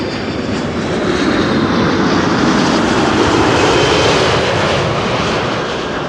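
An airliner on Flight 162 arriving at Amsterdam Schiphol, a loud aircraft, passes with a dense, sustained engine roar that builds to a peak around the middle and stays strong throughout, with no talk over it.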